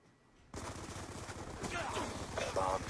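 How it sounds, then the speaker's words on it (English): Dense, continuous gunfire in a Call of Duty hacked lobby, a steady loud wash of rapid shots and headshot impacts that runs without a break after a quiet start. "Listen to all them headshots."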